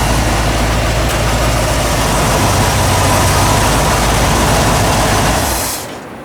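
A 1982 Ford F150 engine idles steadily after a restart, a loud, close, low rumble that holds evenly for several seconds before dropping away abruptly near the end.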